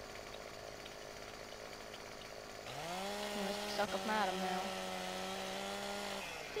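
A chainsaw in Farming Simulator 2015 cutting trees in a forest: a steady idle drone rises partway through into a loud, sustained revving whine as the saw bites in, with brief speech over it.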